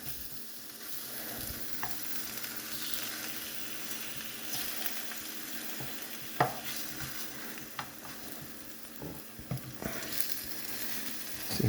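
Rotisserie chicken breast strips sear in a hot pan with a continuous soft sizzle, broken by scattered sharp clicks and taps of a utensil moving the pieces.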